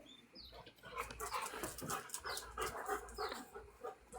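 Several dogs pant close by, with soft whimpers and yips woven through a restless, uneven run of breathing at low volume.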